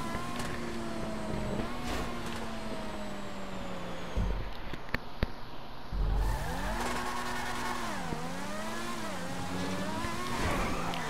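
Formula 1 car in Grand Theft Auto V on a wet track, engine pitch rising and falling steadily through gear shifts, with a brief tire squeal and thumps midway, loud and close throughout.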